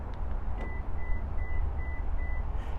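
A Subaru Crosstrek sounds five short, evenly spaced electronic beeps after being locked, faint and thin above a low background hum.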